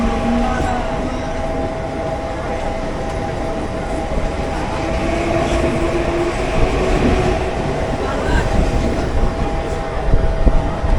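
A Mumbai Harbour Line local train pulls out of Kurla station, a loud continuous rumble of wheels and carriage with rising clatter, heard from inside among crowd noise and voices.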